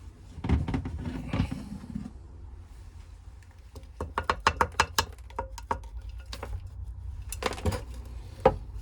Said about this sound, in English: Tip the spare soil in.